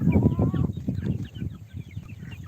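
Backyard hens and chicks cluck and peep close by, a busy overlapping chatter of short calls with a brief higher call near the start.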